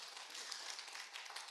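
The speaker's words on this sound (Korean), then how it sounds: "하나님께 최고 영광의 감사 박수를 드립니다" A church congregation claps together during a Sunday service, a dense, steady patter of many hands held at moderate level for a brief stretch, with no voices over it.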